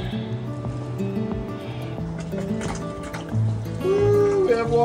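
Water pours and splashes steadily into a newly built pond inside a geodesic dome greenhouse, with a low humming motor and people talking nearby over the flow.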